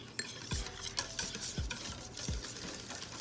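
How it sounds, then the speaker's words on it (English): A whisk beats sweet crepe batter in a bowl, a steady run of scraping, rhythmic strokes with sharp clinks against the sides, close and alone. "So just keep whisking until we get the right consistency."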